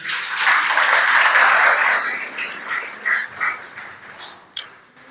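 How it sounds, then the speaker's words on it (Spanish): A lecture audience at a political science school welcomes the guest speaker with applause that starts full and dense, then thins into a few scattered claps before fading out. "Recibámosla con un fuerte aplauso"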